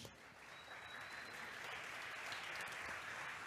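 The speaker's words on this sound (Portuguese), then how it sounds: "aplauda Jesus." A church youth congregation applauds during a congress service, giving a steady, faint wash of many hands clapping together with a broad hiss-like texture that holds evenly throughout, with no speech.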